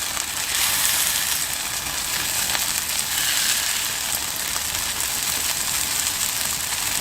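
Jamón pressed flat on a hot Blackstone griddle sizzles and crisps, a dense, steady hiss of frying fat heard up close with no pauses and no voices.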